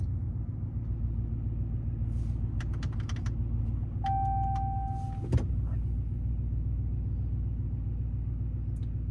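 A Ram 1500 pickup fitted with a Flowmaster Signature Series exhaust idles with a low, steady rumble, joined midway by a thin whine and a short thump.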